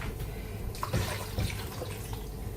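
Tap water pours steadily into a container to boil carrots and parsnips in a home kitchen, a soft continuous splashing rush with no talking.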